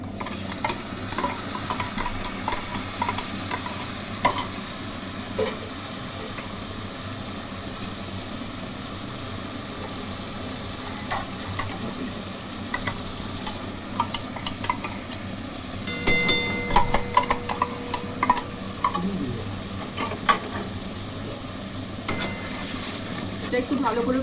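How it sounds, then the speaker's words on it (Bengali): Eggplant frying with salted, sweetened yogurt in a pan, a continuous sizzle with repeated stirring clatter against the pan and a low hum beneath. "এটা একটু ভালো করে কষে দিতে হবে"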